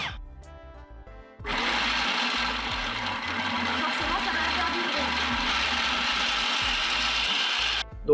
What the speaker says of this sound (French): j'ai mis mes noisettes dans le Thermomix. Donc là, je vais mettre mon couvercle et mixer à fond